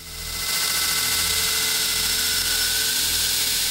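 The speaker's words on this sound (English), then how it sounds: "Working with the belt grinder is always followed by some handwork." A belt grinder running against a knife blade held in a grinding jig, a steady bright hissing grind with a constant low hum beneath, close and continuous throughout.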